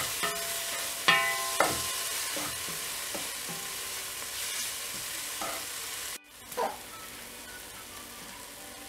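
Chopped ingredients frying with salt in a pan for chicken soup, stirred with a spatula: a steady sizzle broken by sharp scraping and clanking strokes, close and moderately loud, with a brief dropout near the end.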